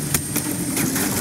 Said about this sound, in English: That head drone taking off!